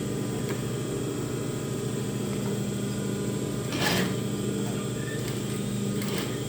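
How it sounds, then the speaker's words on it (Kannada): A Juki industrial sewing machine stitching a saree, giving off a steady, close mechanical whir with a fast repetitive rattle that carries on without a break; no voices are heard. "ನಂದು ಜುಕ್ಕಿ ಮಷಿನ್, ಇಂಡಸ್ಟ್ರಿಯಲ್ ಮಷಿನ್ನು. ಸ್ವಲ್ಪ ಸೌಂಡ್ ಬರುತ್ತೆ"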